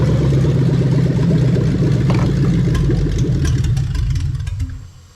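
A Toyota 3UZ-FE VVT-i V8 engine in an IS300 idles steadily at close range with the fuel pump disconnected, its low rumble holding even before the revs sag and the sound fades away near the end.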